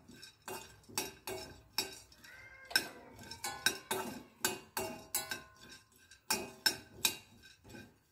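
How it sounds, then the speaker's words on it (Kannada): Roasted gram (hurigadale) dry-roasted in a pan, with repeated close metallic clinks and scrapes of a spoon against the pan in an uneven rhythm and no talk. "ಹುರಿಗಡಲೆ ಇದನ್ನು ಸಹ ಹುರ್ಕೋತಾ ಇದ್ದೀನಿ."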